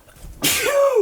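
One loud, close human sneeze: a quiet breath in, then a sudden explosive burst that trails off into a falling vocal tone.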